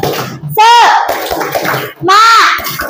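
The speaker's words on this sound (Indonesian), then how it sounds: "Tepuk semangat." A class of children chants and claps a rhythmic spirit clap in a classroom, loud bursts of young voices with hand claps in between.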